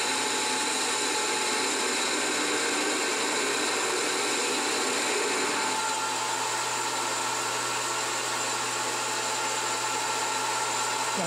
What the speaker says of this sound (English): Now it should start cutting the chamfer.